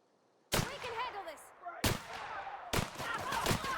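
A sniper rifle in The Outer Worlds fires three loud, sharp shots about a second apart, each one echoing and ringing out into a long decaying tail.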